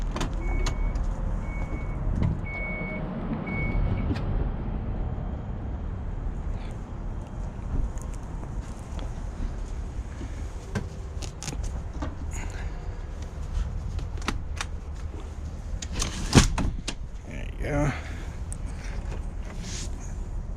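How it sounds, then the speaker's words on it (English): The power side door of a 2015 Chrysler BraunAbility wheelchair van runs shut with a low mechanical hum and whir, then closes with a firm thump near the end, heard close up, with a few beeps early on and someone talking over it. "So the door closes."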